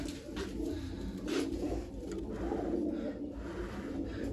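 Pigeons coo in soft, repeated low phrases close by while one bird is held in the hand, with a light background hum and no talking.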